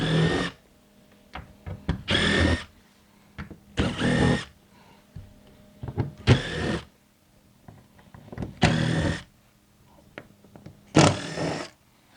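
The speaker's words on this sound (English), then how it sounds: "we're going to start by removing these screws all the way down the column" A power tool backing screws out of a door jamb clamp, six short whirring bursts spaced a second or two apart, close and loud against a quiet room, with faint clicks between.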